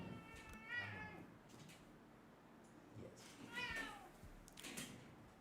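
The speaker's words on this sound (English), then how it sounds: "now the other cat has been summoned" An old house cat gives several loud, drawn-out meows in quick succession near the microphone indoors, with pauses between them and quiet background.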